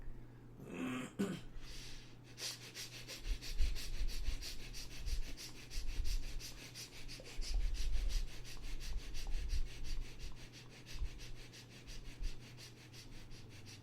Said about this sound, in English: start breathing quick, short, gentle, playful breath